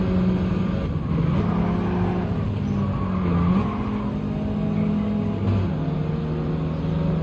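A race car in Gran Turismo 7 runs steadily under load, its engine droning with shifting pitch and a couple of gear changes, no voices over the continuous, fairly loud engine note.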